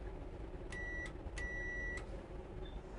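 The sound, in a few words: two rings of train ready-to-start bell or buzzer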